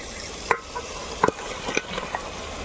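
Pre-fried chicken pieces drop into a pan of onions, green chillies and tomato at an open-field, dhaba-style biryani cookout: three or four distinct clinks and thumps over a low, quiet sizzle.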